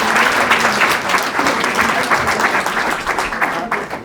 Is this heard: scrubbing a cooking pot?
no